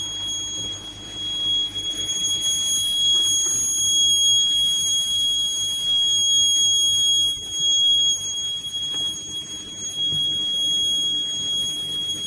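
Toxic gas detector alarm buzzer sounding in a factory leak-warning demonstration with ammonia liquid, a steady high-pitched electronic tone held continuously over a low background hum, fairly loud and unbroken with no speech.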